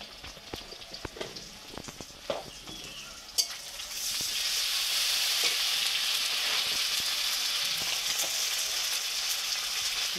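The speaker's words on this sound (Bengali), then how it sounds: "পেঁয়াজটা দিয়ে দিলাম, দিয়ে ভালো করে একটু ভেজে নেব।" Onion and ginger fry in a pan, starting with scattered clinks and stirring, then a dense, steady sizzle takes over and continues close and moderately loud to the end, with no voices.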